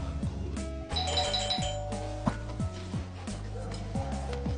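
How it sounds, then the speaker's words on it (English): A doorbell chimes once, ringing out clearly over steady background music. "the doorbell was too high for him to reach"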